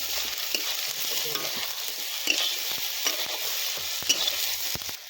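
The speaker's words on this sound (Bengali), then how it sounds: "জলগুলো হয়ে গেছে, এবার আলুগুলো দিয়ে দেবো।" Potatoes are tossed into a pan with turmeric and chilli at an outdoor winter picnic and fry with a steady sizzle, punctuated by several sharp scrapes and clatters of stirring.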